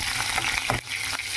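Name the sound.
green chillies frying in hot tempering oil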